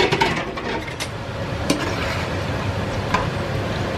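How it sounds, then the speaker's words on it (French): French fries frying in a pot of oil, a dense steady sizzle close by, broken by a few sharp scrapes and knocks as they are stirred. "on n'hésite pas de venir remuer un petit peu pour être sûr que toutes les frites soient bien cuites"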